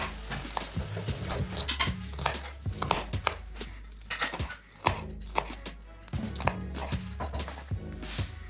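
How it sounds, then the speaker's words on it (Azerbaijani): Onions chopped on a cutting board for a lentil soup, rapid rhythmic knife knocks close by in quick bursts with brief pauses, no talking. "iki baş soğanı doğrayıb, yağda qoruq, yəni ətlə birgə"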